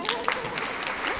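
Brief applause from an audience at a women-in-business symposium panel, brisk clapping with a voice speaking over it.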